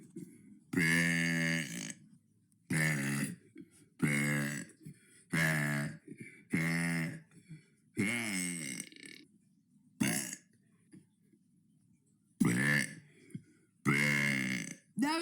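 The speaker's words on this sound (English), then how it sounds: "That was day 67 of burping for 100 days." About a dozen loud, deep burps come in separate bursts with short silent gaps between them, each one voiced and rumbling.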